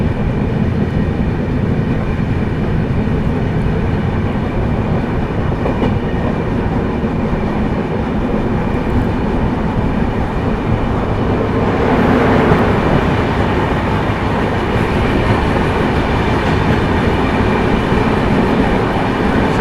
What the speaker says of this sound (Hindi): सामने से आ रही है सिकंदराबाद हज़रत निज़ामुद्दीन दुरंतो